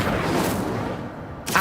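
An Incendio fire spell cast in Hogwarts Legacy, a muffled booming blast that decays over a second before a sharp crack at the end, moderately loud within game ambience.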